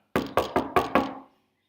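Someone knocks on a door: five firm, evenly spaced knocks, close and loud, each with a short wooden ring, followed by silence.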